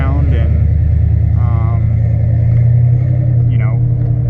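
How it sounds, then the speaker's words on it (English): Cammed Chevrolet Silverado pickup truck V8 idling in neutral, a loud, steady, lumpy rumble with a choppy lope that runs the whole time, close up, with a brief voice faintly underneath. "when I put the truck in neutral, the cam, you know, you can actually tell out of the cam, and I like the sound"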